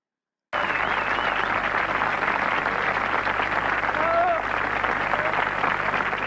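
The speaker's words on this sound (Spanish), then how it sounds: "La ovación del público" A live audience ovation captured in a recorded Quechua song performance starts abruptly and continues as dense, loud, steady applause and crowd noise, with faint voices mixed in.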